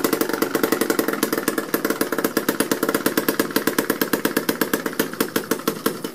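A homemade internal combustion engine, its flywheel removed, runs on its own with a fast, even train of sharp knocking firing beats, loud and close, with no talk.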